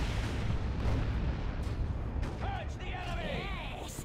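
Grenade explosion amid a Dawn of War II: Retribution battle with Assault Marines, loud booms and artillery-like blasts over constant combat rumble, with a voice talking throughout.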